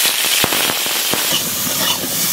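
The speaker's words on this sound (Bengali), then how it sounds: "তেলটা গরম হয়ে গেছে, এখন আলুটা দিয়ে দেবো" Potato pieces dropped into hot oil in a home kitchen set off a loud, steady sizzling hiss, broken by sharp crackling pops. No one talks.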